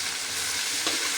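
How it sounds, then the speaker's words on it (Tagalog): Food sautés in a hot pan, a steady, close bright sizzle with a brief stir or scrape near the end. "Igisa ko lang muna ng konti"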